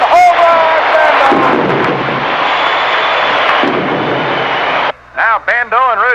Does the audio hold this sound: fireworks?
yes